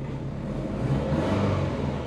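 A twin-turbo Subaru Forester engine revs steadily with a rising, whirring tone, close and loud, with no talking.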